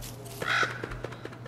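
Crow caws from the Don't Starve video game world, a harsh burst followed by a series of short, evenly spaced caws over a steady low ambient hum, no talk.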